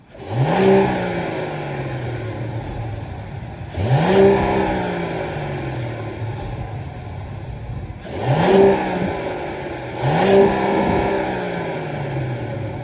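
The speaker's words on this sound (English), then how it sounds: "let's fire up this 3-liter turbocharged 6-cylinder, straight 6, and hear how she sounds" A 2024 Mercedes-Benz CLE 450 Coupe's 3-liter turbocharged straight-six engine revs four times, each sharp rise in pitch dropping back to a steady idle hum between blips, loud and close.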